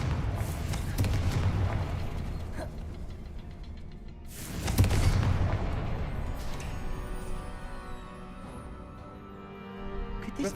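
A Confringo spell goes off in Hogwarts Legacy, a booming fiery blast about midway that swells out of a lower rumble and then fades into quieter ambient game sound.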